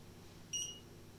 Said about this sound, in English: The unit will beep and flash its light, showing that it's turned on.